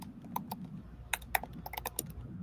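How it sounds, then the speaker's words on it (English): Computer keyboard typing picked up on a microphone during a live baseball postgame talk show, with scattered sharp key clicks in irregular bursts, faint and close, over a low hum with no speech. "you're not on your mic because I can hear your keyboard"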